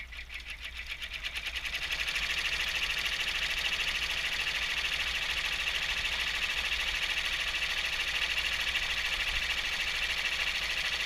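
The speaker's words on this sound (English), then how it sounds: "at this point you're going to stitch the outline, which will attach the back and the front together." A sewing machine hums and whirs continuously as it stitches the outline of a fabric alert bracelet, joining back and front, the motor ramping up over the first two seconds and then holding a steady fast buzz.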